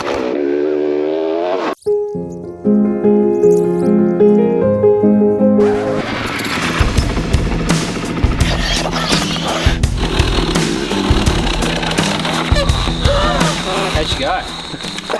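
A project motorbike from a wrecker-to-racer build, with no brakes, no clutch and a damaged exhaust, its motor running loudly and continuously with rising and falling revs, mixed with music and voices talking nearby.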